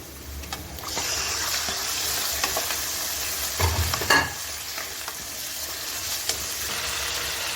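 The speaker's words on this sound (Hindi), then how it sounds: "तो अब हम इसमें चिकन फ्राई करते हैं" Chicken frying in ghee in a wok, sizzling with a continuous hiss and occasional stirring clatter, close up and steady.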